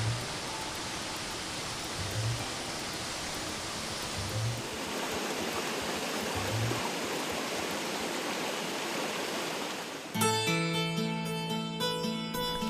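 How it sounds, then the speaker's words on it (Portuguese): A waterfall on the Rio das Almas, the first one after the river leaves Pirineus State Park, sends up a steady, dense roar of rushing water that fills most of the stretch before music comes in near the end. "é a primeira cachoeira do Rio das Almas depois que ele deixa o Parque Estadual dos Pirineus"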